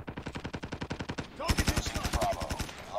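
A PP Bizon submachine gun firing in Call of Duty Mobile, delivered as a steady rapid stream of evenly spaced shots, with a louder, denser burst in the second half.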